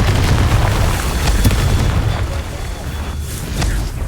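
A Confringo fire spell explodes in the video game Hogwarts Legacy, a loud, dense booming blast with crackling bursts that holds at high level throughout the clip.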